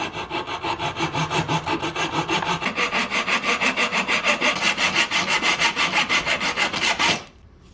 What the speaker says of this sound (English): And the next thing is to cut a small slot.